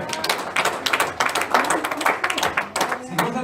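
A church congregation claps in praise, with distinct, slightly uneven hand claps forming a lively pattern, and voices are heard calling out over the clapping.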